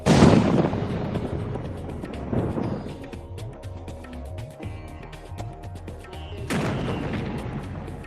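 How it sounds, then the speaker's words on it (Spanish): A sharp blast from small explosive charges splitting large quarried stone blocks opens, followed by rumbling debris and crackle, then a second explosive burst near the end; loud and close, no voices. "Estas pequeñas explosiones se utilizan para dividir los paños en bloques de menor tamaño"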